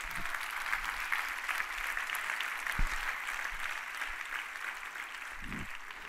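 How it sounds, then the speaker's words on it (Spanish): A church congregation claps steadily, a sustained wash of applause at moderate distance with no voices standing out. "Dele un aplauso al Señor."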